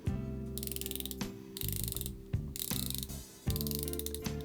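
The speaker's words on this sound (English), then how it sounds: "So let's have a listen to the action of this bezel." A zirconia ceramic 120-click unidirectional bezel on a 200m automatic dive watch is turned in several bursts, each a fast, even run of crisp, close ratcheting clicks separated by brief pauses, with no talking.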